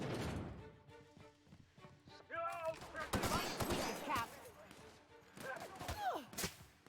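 Gunfire rings out in a video game as enemies shoot at the player, sharp bursts of shots mixed with game effects and rising whines, loud and close in several clusters.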